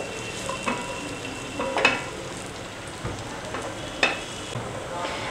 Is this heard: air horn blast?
no